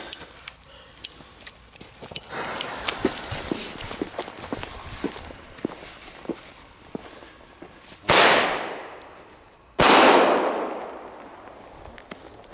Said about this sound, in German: Und dann machen wir den letzten Explode Doppelknall.